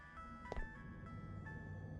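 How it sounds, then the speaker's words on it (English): A faint electronic phone ring in the video game Araya, steady tonal beeps repeating over a low background hum, distant and quiet. "I hear a phone ringing."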